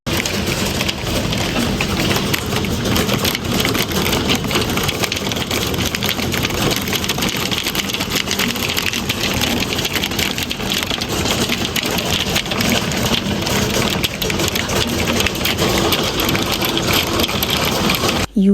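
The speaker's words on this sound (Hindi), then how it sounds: "अब आप देखें कि यूके में ये ओले पड़ रहे हैं।" Hail falls steadily outside in the UK after dawn, a dense continuous patter and hiss on surfaces that stays even and fairly loud throughout with no voices.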